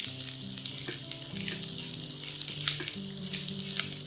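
Chilli mushrooms stir-fry and get tossed in a pan over a high flame, a steady loud sizzle with periodic scraping and tossing swishes, no talking.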